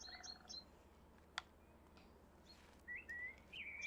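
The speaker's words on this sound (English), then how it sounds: "The birds." Birds chirp outdoors in the House Flipper game, faint tweets and short whistled calls scattered over a quiet low hum, with a sharp click in the middle and a rising trill toward the end.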